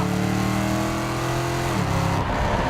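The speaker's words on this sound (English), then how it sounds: "Lots of blower whine up front, tons of exhaust noise out back." A tuned 700 hp Hennessey Camaro ZL1 muscle car roars with supercharger whine and loud exhaust, a dense, continuous engine drone that shifts pitch partway through as it changes speed, close and alone.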